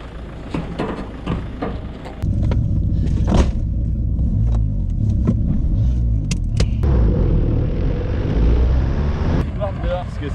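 A Renault Clio 1.9 diesel accelerating, its deep engine rumble rising and holding loud and close, mixed with voices talking inside the car and scattered sharp knocks.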